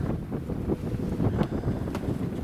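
Gusty wind buffets the microphone on an open golf course, a steady rough rumble with no voices over it.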